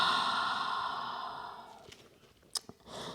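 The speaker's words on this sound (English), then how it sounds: "In through the nose, exhale through the mouth." A long, deep breath exhaled through the mouth, a breathy whoosh lasting under two seconds that fades into quiet with a couple of soft clicks.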